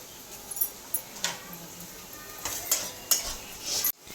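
Cumin and mustard seeds crackle in hot oil amid scattered utensil clinks and stirring scrapes, fairly quiet with sharp little pops and a sudden cut near the end; no speech.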